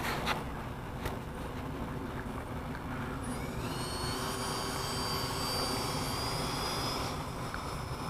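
A Freewing Stinger 64mm RC jet spooling up to full throttle for takeoff from a weedy field in a crosswind, a steady roar with a rising high-pitched whine that climbs and holds, heard from close by.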